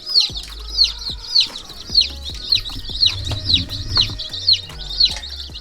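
A flock of 22 newly arrived chickens, including young pullets, gives loud, steady, repeated high calls about twice a second, close by and with no talk over them.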